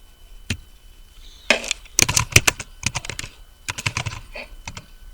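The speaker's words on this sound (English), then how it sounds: "Now as you can see I have typed something and that automatically comes in my text box" Keys clack on a computer keyboard in quick bursts of taps, near and crisp, with short gaps between runs and no voice.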